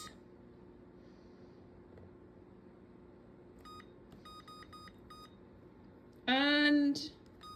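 An oven's electronic timer is keyed in for 40 minutes, giving a rapid series of short, faint button beeps over a low kitchen hum, followed by a louder voiced burst.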